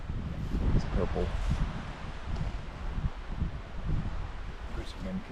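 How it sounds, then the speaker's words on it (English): Wind gusting outdoors in the South Laurel Fork Wilderness among wildflowers: steady low rumble and buffeting against the microphone, with rustling foliage and no clear voices. "There's some wind kicks up."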